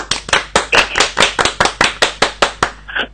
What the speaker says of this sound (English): I think that deserves a PGA clap.